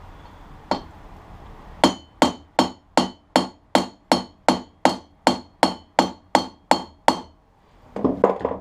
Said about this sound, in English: So I'm going to hammer this in first.